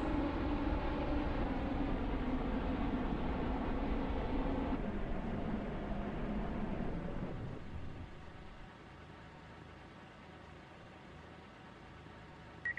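Inside a two-coach Class 143 passenger train, a steady interior rumble and hum from the running train gradually slows and quietens to a low idle.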